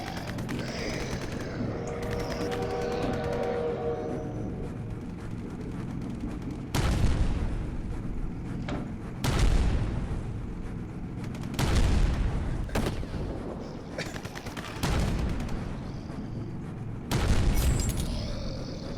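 Auto turrets fire in the video game Private Eye-Dol 2: a series of heavy, booming bursts at irregular intervals, separated by quieter stretches with softer background sound.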